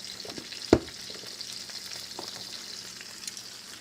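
Blackened Cajun steak frying in a single pan, a steady close sizzle with one sharp clack of utensil on metal early on, then an even crackle throughout with no talking.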